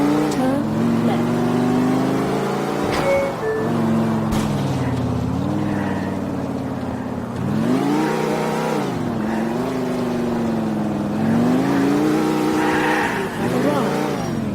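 A car driven in Grand Theft Auto IV drones steadily throughout, its engine note rising and falling with throttle, with game dialogue voices over it.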